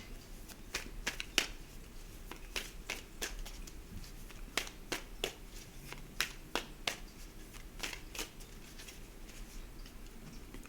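Quiet, crisp riffling clicks come in short bursts of rapid snaps, like cards being shuffled close by, with faint background hiss and no talking.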